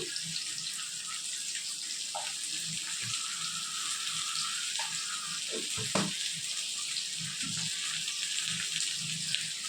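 Salted potatoes frying in oil, a constant sizzle with occasional clinks and stirring knocks of a utensil in the pan; nobody speaks.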